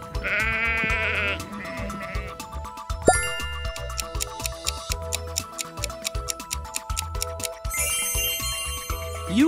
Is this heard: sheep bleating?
yes